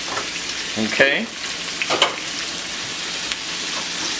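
Steak and onions fry in a pan for Puerto Rican bistec encebollado, a soft steady sizzle with a few clinks and stirring scrapes, while a voice briefly says a word.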